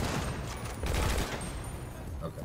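Gunfire in the GTA 5 Online video game, a dense fusillade of game gunshots through a continuous noisy mix for a couple of seconds.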